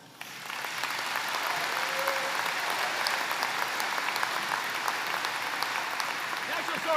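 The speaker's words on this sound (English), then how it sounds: "Let's give them a final round of applause." An audience at a business session gives a sustained round of applause, a dense, even wash of clapping that swells in quickly and holds at a steady level.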